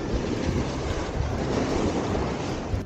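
Steady roar of surf with wind buffeting the microphone, a dense, continuous wash of water noise close by, on a La Union shore during a storm.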